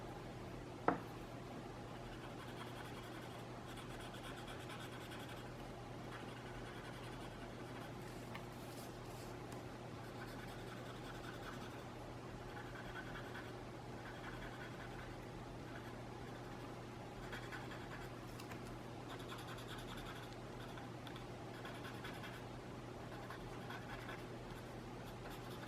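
A pencil scratches faintly and steadily across paper while a pattern is drawn, soft continuous strokes over a low room hum with no talking.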